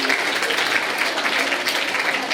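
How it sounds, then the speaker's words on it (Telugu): Loud, dense applause from a room of college students, a steady wash of many hands clapping together without pause, close and sustained throughout. "ఒకసారి వాళ్ళందరూ గట్టిగా క్లాప్స్ ఇవ్వండి."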